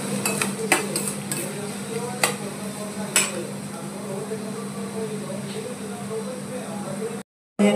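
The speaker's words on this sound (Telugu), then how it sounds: "ఇంకొక అదే ప్యాన్లో కొంచెం ఆయిల్ వేసేసుకొని ఉల్లిపాయలు మసాలా దినుసులు వేసేసి లైట్ బ్రౌన్ కలర్ వచ్చే వరకు ఫ్రై చేయాలి" Onions and spices frying in oil in a pan, a steady low sizzle with a few sharp metallic clinks of a utensil against the pan, while someone speaks over it.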